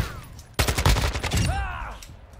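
A big-caliber sniper rifle fires in a video game with a sudden loud blast, then a ringing, rolling decay that fades over about a second and a half.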